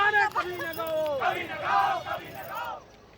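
A group of voices chants a protest slogan against Rangila Jadu in loud, rhythmic call-and-response shouts, close by and ragged, before trailing off.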